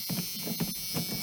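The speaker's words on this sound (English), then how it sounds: "the seatbelt buzzer works" A seatbelt warning buzzer sounds inside a 1986 Chevrolet C10 pickup truck, giving three evenly spaced, fairly quiet buzzing pulses over a low cab hum.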